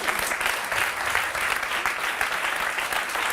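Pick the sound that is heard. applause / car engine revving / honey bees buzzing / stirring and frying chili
applause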